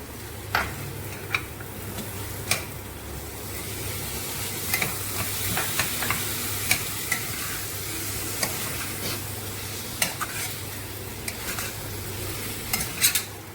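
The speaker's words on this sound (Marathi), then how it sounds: "आता मी मटार टाकत आहे" Green peas tossed into softened potatoes in a pan for a mixed cauliflower, potato and pea dish sizzle steadily while a spoon stirs, with scattered sharp scraping clicks over a constant low hum.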